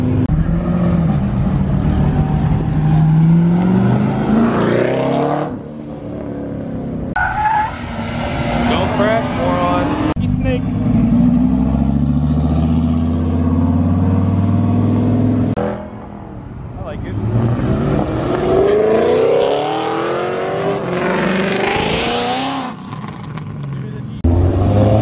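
Powerful sports car engines, including a 1,000-horsepower Nissan GT-R, roar and rev hard as cars accelerate away in turn from a cars and coffee meet, loud and close, with people talking over the noise.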